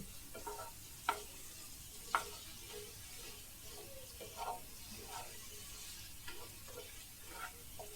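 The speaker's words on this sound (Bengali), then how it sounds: "একটু ভালো করে নেড়ে নিতে হবে যাতে ধরে না যায় তলা" A spoon stirs ghugni in a pan over a low flame, soft scraping strokes repeating every second or so over a faint gentle sizzle, close and quiet with no talk.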